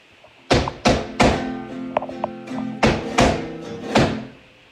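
Flamenco llamada footwork: a run of sharp, loud foot stamps on a floor, two quick hits, a pause, then several more evenly spaced strikes, each with a short ringing tail and a few lighter taps between.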